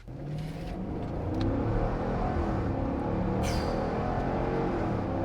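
A car accelerates hard from a dig, the engine note rising steadily over several seconds, loud and close, with a brief whine partway through and no talk.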